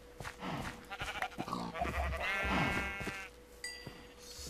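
Repeated Minecraft sheep bleats, loud and close, overlapping one another with farm game ambience, no talking.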